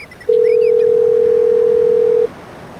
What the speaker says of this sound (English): You're gonna answer the phone, you Virgo Verver.